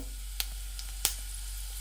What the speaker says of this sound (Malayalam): എണ്ണ ചൂടായി വരുമ്പോൾ ഇതിലേക്ക് പെരിഞ്ചീരകം ഇട്ട് കൊടുക്കാം.